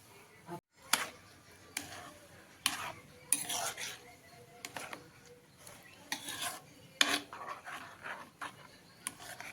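Aamras (mango juice) being stirred, with intermittent soft clinks and scrapes spaced irregularly, fairly faint and close, no talking.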